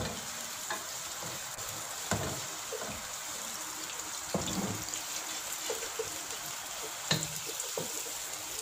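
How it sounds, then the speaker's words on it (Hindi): Onions sizzling in hot oil over a medium flame for mutton yakhni pulao, a steady even crackle throughout with occasional clinks and scrapes of a spoon stirring. "प्याज को तब तक फ्राई करना है जब तक ये लाइट ब्राउन ना हो जाए।"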